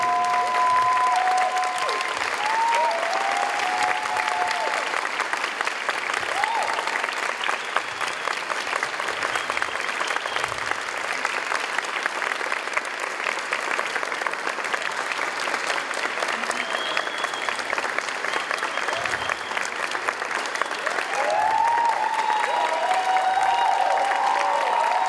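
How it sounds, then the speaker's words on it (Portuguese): Sustained audience applause for performer Liege Vicente at the open-air street-arts showcase of the show Agô, steady dense clapping from a crowd for the full stretch, with a few faint voices and whistles rising near the start and end. "salva de palmas para Liege Vicente"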